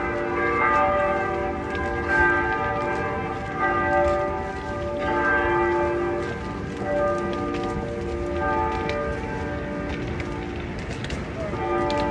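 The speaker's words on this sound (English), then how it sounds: "So I just want to hear the church bells" Church bells ring steadily throughout, their rich overlapping tones sustained and resonant over a constant rain-like background hiss.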